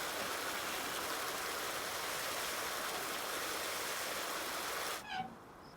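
In Farming Simulator 19, steady rushing water pours continuously into a trough, loud and close, then cuts off abruptly near the end.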